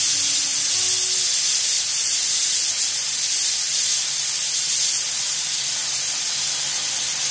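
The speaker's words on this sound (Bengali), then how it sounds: "আর এইদিকে কাঁঠালের একটা সিটি হয়েও গেল" A pressure cooker releases steam while cooking jackfruit curry, giving a loud, continuous hiss that fills the whole stretch without pause and with no voices.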